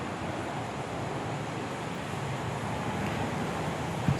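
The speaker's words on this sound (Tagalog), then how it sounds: "Ang lakas ng hangin." Strong wind blowing steadily and loudly outdoors on a Sunday afternoon, a constant broadband rush with no talk.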